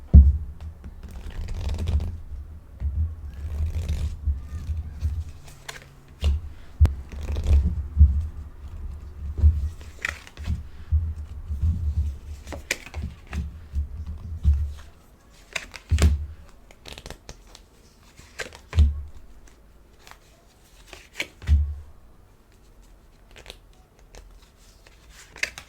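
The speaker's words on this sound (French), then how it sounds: "je vais mettre les cartes et après je vous en parle" Tarot cards laid out one by one on a table, making soft scattered flicks and taps with short pauses between placements, close and fairly quiet, with no talking.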